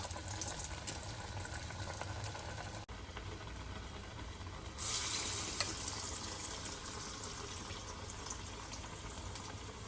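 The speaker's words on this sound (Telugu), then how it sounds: "ఇప్పుడు వీటిని మీడియంలో పెట్టుకొని మనము బాగా డీప్ ఫ్రై చేసుకుందామండి" Bean (bobbarla) vadas deep frying in hot oil on medium heat, a steady close hiss and crackle throughout that swells briefly partway through, with no talking.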